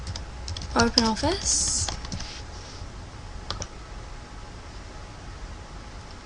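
Computer keyboard typing, faint and scattered, following a brief spoken word.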